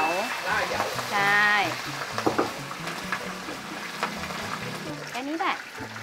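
Shrimp frying in hot oil in a pan, a steady crackling sizzle that runs throughout with a voice talking over it close by.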